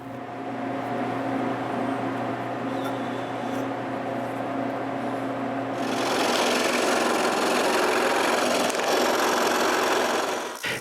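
A power saw cuts a small wooden lever for a wooden tripod, a steady high-pitched mechanical whine that grows louder and harsher partway through as the blade bites into the wood, running continuously with no talk.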